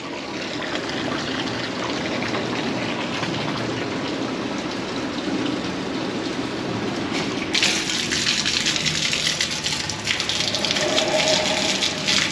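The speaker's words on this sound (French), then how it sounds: "c'est ce qui vient de couler dû au chargement du pressoir" Grape juice flows freely from a loaded Champagne wine press at harvest, a steady, close gushing and trickling that grows brighter and more splashy partway through.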